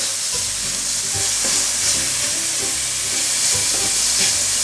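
Ground beef frying over high heat in a pan while it is stirred and broken into small pieces for a French hachis Parmentier. A loud, steady sizzle runs throughout, with scraping and stirring knocks.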